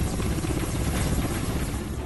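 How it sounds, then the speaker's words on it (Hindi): An Indian Air Force Mi-17 helicopter hovers low over a swollen, flooded river in Kathua, Jammu, its rotor and engine producing a steady, loud, dense roar with no break. "उफनती हुई नदी के ऊपर कुछ देर हवा में खड़ा हो गया वायुसेना का Mi-17"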